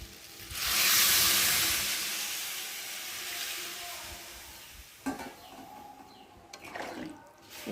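Water poured into a hot pan of frying water spinach and vegetables sets off a loud burst of hissing sizzle, which fades into a softer bubbling sizzle broken by a couple of clattering stirs.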